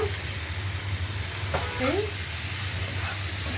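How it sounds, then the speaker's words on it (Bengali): Steady oil sizzle of shrimp frying in a pan, a constant hiss with a brief stir or scrape partway through, close and fairly loud. "চিংড়ি মাছটা একটু ভাজিয়ে নিতেছি"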